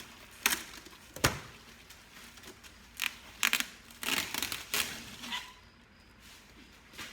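Packing tape is sliced and torn off a cardboard box of customer-return toys in a series of sharp, close ripping and scraping bursts, irregular and separated by short pauses, with no talking.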